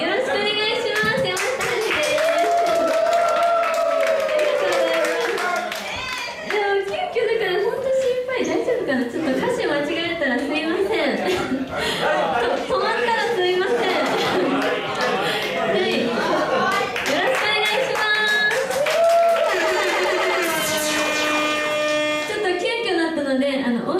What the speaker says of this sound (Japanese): よかったら手拍子一緒に楽しんでみましょう